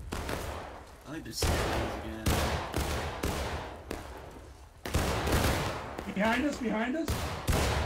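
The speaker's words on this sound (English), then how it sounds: "Open fire, northeast. Keep up that fire." Musket volleys in War of Rights, a multiplayer game of Civil War line battles, ring out as repeated sharp, crackling bursts across the whole stretch, with voices talking over the firing.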